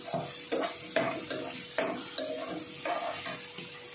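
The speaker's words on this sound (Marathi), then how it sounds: "आता हळद टाकून घेऊया, अर्धा चमचा हळद टाकली आहे।" Rice cooking with tomato and half a spoon of turmeric is stirred in a frying pan, with rhythmic scraping strokes about every half second over a soft continuous sizzle, close and with no talk.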